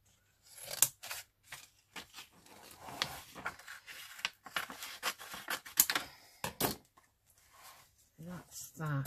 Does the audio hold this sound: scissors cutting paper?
yes